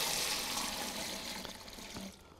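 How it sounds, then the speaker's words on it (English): Diluted activator liquid, pre-mixed with water, pours steadily into a mixing bucket, a continuous rushing splash that slowly tapers off over a couple of seconds. "the first thing we put into our mixing bucket is 1 gallon of what we call diluted activator."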